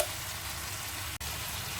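A steady, dense sizzle comes from vegetables and dried loitta fish frying in a pan as dry spices are added, with a brief gap of near silence partway through.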